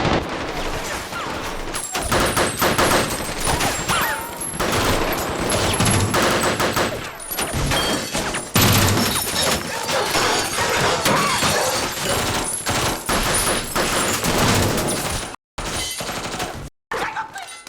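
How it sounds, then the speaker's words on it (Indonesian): Gunfire in a film sprays bullets through walls as rapid, dense bursts with shattering glass and breaking debris. The barrage is loud and chaotic for most of its length and breaks off abruptly near the end. "dalam hitungan detik rentetan peluru menembus dinding"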